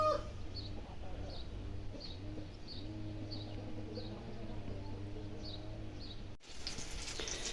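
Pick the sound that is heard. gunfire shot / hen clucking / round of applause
hen clucking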